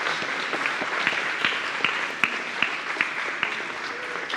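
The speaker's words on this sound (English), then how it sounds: "let's give an applause for our young adults." A church congregation claps for young adults at a high school senior bridging service, steady scattered applause from a crowd a short distance away, moderate and continuous for several seconds.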